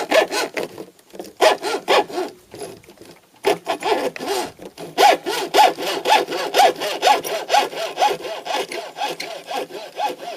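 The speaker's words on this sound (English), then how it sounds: "I'm going to estimate that I have to cut off the fishing rod so it fits inside." A fishing rod is sawn through by hand with a steady back-and-forth rasp, each stroke rising and falling in an even rhythm, close and clear with brief pauses between runs of strokes.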